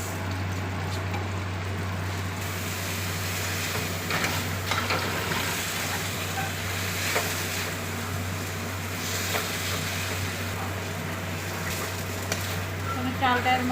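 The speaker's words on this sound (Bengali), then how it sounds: "এই আতপ চালগুলো এর মধ্যে দিয়ে দেবো।" Gobindobhog rice sizzles in a pan of frying spices for muri ghonto with katla fish head, a steady close crackle with occasional scraping stirs over a constant low hum.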